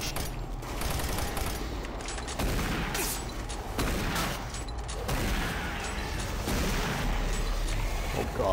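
Gunfire in Doom 3 with the Redux mod: a steady stream of rapid shots and mechanical clatter in a dark cavern, loud and continuous across the whole stretch.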